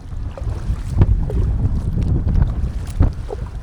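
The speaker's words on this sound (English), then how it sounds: "Oh yeah, wind is picking up" Rising wind buffets around a budget inflatable kayak on open water, a loud, uneven rush with sharper gusts around the first and third seconds and no voices.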